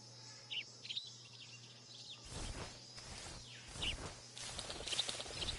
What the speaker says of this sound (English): Oh, the fucking bird.